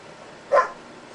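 A single short bark from a dog in the video game Fable II sounds once, at moderate volume against a quiet background.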